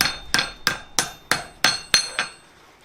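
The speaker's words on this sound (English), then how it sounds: "just hammer it the other way" Seven sharp metallic hammer strikes on hot metal over an anvil block ring out at a steady pace, each with a bright ringing tail, close and fairly loud with no talking, while forging a flower coat hook.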